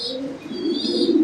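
A pair of black Pomeranian pouter pigeons coo softly up close in a loft, a short low rolling call.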